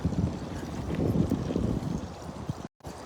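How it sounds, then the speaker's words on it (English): Wind blows outdoors at a big cat sanctuary away from a lake, a constant rushing, buffeting roar across the microphone that stays loud and unbroken, with a brief dropout near the end. "I can hear the wind, but I don't feel it as much."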